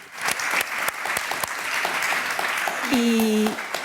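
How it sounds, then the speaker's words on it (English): Conference audience at an urban planning talk gives a sustained round of applause for a speaker, a dense crackle of many hands with a few sharp claps standing out and a brief steady tone near the end. "Big round of applause for her."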